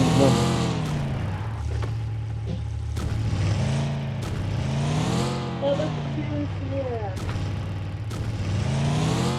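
A car engine drones and revs in the mobile battle royale game PUBG Mobile, its pitch rising and falling as it drives. Players talk and shout over the continuous engine sound.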